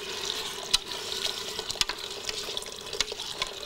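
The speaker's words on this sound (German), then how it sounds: "jetzt darfst du es noch mit dem Wasser aufgießen" Water is poured from a vessel into a pot of red lentil soup, a continuous soft trickling and splashing with a few small clinks, heard close and alone.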